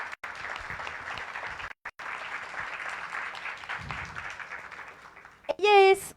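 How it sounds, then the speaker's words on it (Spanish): Audience applause for a guest at a Diálogos PILARES talk, steady and broad for about five seconds, briefly dipping, then ending under a short burst of feedback-like tonal ringing near the close. "Un aplauso, por favor, para ella."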